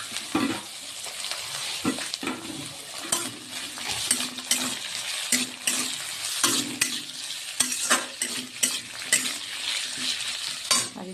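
Carrots and onions stir-frying in a pan for homemade chowmein, with a steady sizzle broken by frequent scraping and clattering of a spatula being worked through the vegetables, fairly close and loud.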